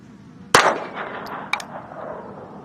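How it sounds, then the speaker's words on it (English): A Ruger LCP 2 pistol chambered in .22 fires CCI 40 grain standard velocity lead rounds: one sharp loud shot, then a second fainter crack about a second later, each trailed by a short metallic ring. "And we are shooting CCI 40 grain standard velocity lead right now."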